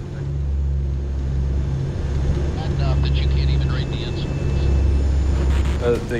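A hurricane hunter airplane flies through Hurricane Irma's wind and rain, with a steady, loud, droning engine hum throughout and voices speaking over it.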